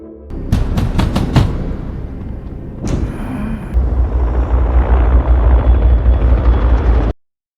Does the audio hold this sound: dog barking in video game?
no